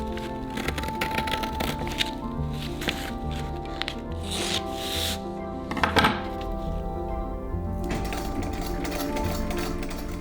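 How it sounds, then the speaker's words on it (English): Sewing machine stitching the front darts of 1890s jacket panels: a steady, continuous mechanical whirr with rapid needle ticking throughout, close and moderately loud, with no talk. "On the outside fabric pieces, I can just sew these by machine and press them flat"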